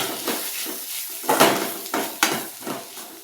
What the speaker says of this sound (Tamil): போட்டுட்டு இதை வதக்கணும்.